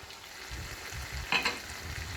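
Beef frying in a pan with tomatoes and green chillies, a continuous soft sizzle with stirring and one brief louder scrape partway through.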